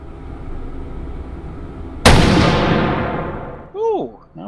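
A single loud WWI bolt-action rifle shot in a VR video game cracks out after quiet background, its echo decaying over a second or more, followed by brief whistling game sounds.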